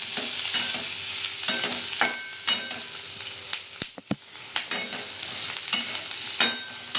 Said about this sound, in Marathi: तर आता मस्त कांदा आता भाजून घ्यायचा आहे छान लालसर